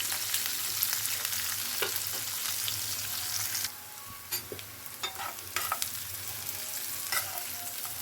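Two onions fry in a pan with a steady close sizzle, joined partway by a few scrapes and taps of a stirring spoon, no voices.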